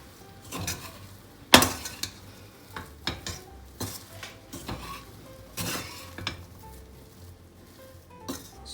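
Soya and vegetable mixture being stirred by hand or spoon with corn flour and rice flour in a bowl, giving irregular soft clinks and scrapes, with one sharp knock near the start and quieter stirring strokes after.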